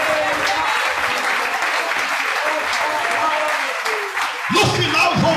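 A church congregation bursts into loud, sustained applause that fills the room, with voices calling out beneath it and a deeper shout rising toward the end.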